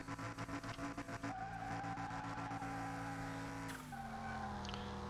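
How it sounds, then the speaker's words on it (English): A Sakura Supa 1.4 four-cylinder turbo car in Car Mechanic Simulator 2021 revs from a standstill and pulls away: a loud, steady engine drone with pulsing at first, then shifting pitch as it accelerates, with no talking. "We're going to put the brake on, we're going to accelerate,"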